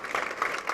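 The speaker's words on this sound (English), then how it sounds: "a big round of applause" A crowd applauds a guest of honour at a dance research world congress with a brief burst of dense, steady clapping.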